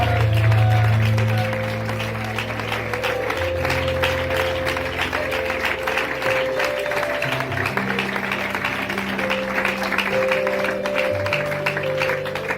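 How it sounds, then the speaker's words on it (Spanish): Loud congregational applause in a church, steady dense clapping lasting throughout, with held keyboard chords droning beneath. "Fuertes aplausos para él"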